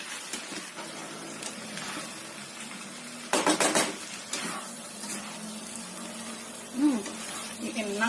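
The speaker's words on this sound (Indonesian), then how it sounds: "Kita aduk sampai tercampur rata." Fried kway teow noodles get stirred in a pan, a spatula scraping and clanking against the metal over a low sizzle, with a person talking throughout.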